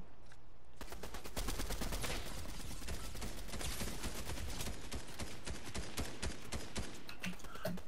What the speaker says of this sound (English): I hear shooting.